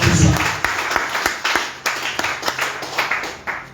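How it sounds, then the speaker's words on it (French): A church congregation at a Sunday Christmas-season service claps in a quick, fairly even rhythm, the sharp claps close and loud, with a brief burst of cheering at the start. "Acclame très fort le Seigneur."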